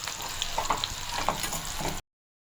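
Cumin seeds and roasted gram fry in a pan, a close, steady sizzle with small pops and light stirring that stops abruptly after two seconds.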